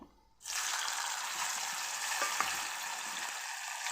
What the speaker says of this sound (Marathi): तेल जिरे मोहरी छान कडकडले की आपण यामध्ये टाकून घेणार आहे एक छोटासा टोमॅटो मी चिरलेला आहे तो टाकून घेणार आहे